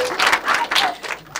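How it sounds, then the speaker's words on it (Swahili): Applause from a church choir congregation for a soprano singer during a Mass, a short burst of scattered clapping, fairly close and lively, rising and dipping over a second and a half. "Makofi mengi kwake."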